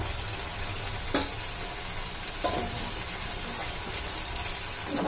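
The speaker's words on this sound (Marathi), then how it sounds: "सर्व चांगलं परतून घ्यायचं." Spices and onion-garlic masala with turmeric and coriander powder frying in a pan for a Maharashtrian mutki rassa bhaji, a steady soft sizzle throughout with a few brief clinks of a stirring spoon against the pan.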